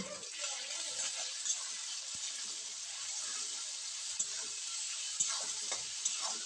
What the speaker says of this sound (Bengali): সব কিছুকে বেশ ভালোভাবে কষিয়ে নেব মিনিট 3 সময় ধরে